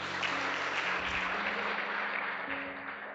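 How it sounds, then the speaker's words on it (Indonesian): A church congregation at a youth worship service applauds for Jesus, a dense, steady wash of clapping from many hands that holds at an even level throughout, with a faint tonal hum underneath. "Tepuk tangan dulu buat Tuhan Yesus."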